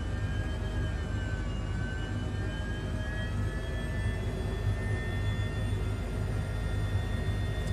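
Aircraft engines drone continuously in flight, a loud, steady roar with a faint high whine running through it and no talk.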